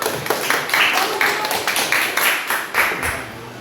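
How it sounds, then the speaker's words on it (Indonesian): Rhythmic group clapping in a school classroom, steady pulses of hand claps repeating about twice a second, with voices mixed underneath. "Kelompok 2, tepuk tangan."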